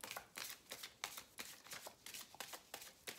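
Oracle de lumière oracle cards being handled and shuffled, a quick run of crisp, repeated riffling slaps in an even rhythm, close and fairly quiet.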